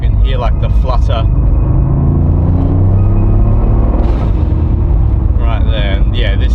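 A modified Toyota GR Yaris turbo engine rumbles steadily from inside the car, with quick fluttering turbo chatter bursting out near the start and again near the end.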